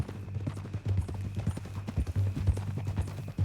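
Horse hooves clip-clop in a steady walking rhythm in the Red Dead Redemption 2 video game, close and distinct, with a low tonal hum running underneath.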